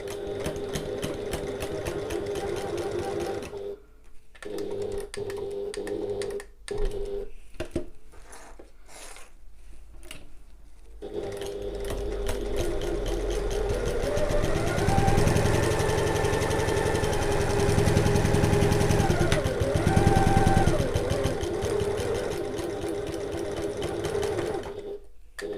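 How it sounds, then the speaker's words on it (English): A sewing machine stitches a recessed zip bridge for a bag at regular stitch length, its steady motor whir broken by short pauses for back stitching at start and end, then running longer and louder toward the finish. "back stitch at the start and the end, using our regular stitch length"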